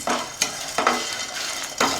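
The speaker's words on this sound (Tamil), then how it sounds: "போட்டுட்டு இதை வந்து நல்லா ட்ரை ரோஸ்ட் பண்ணி வாசம் வர அளவுக்கு நல்லா வறுத்துக்கணும்" Kashmiri chilies and coriander seeds dry roasting in a pan, stirred with a few distinct scraping strokes over a faint steady crackle, close and alone.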